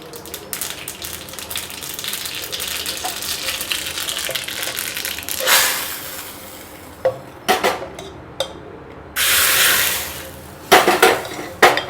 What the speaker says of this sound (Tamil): நம்ம கடுகு மட்டும்தான் தாளித்து கொட்ட போகிறோம்.